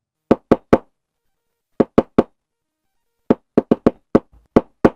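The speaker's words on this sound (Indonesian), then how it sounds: "terdengar suara, ketukan kayu pelan" Slow knocks on wood of an old wooden wayang puppet box in a village at night, clustered in threes and fours with gaps between groups, crisp and fairly close.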